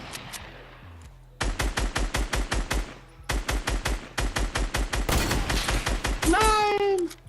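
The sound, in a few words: gunfire in Fortnite video game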